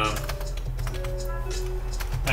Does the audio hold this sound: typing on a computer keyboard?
yes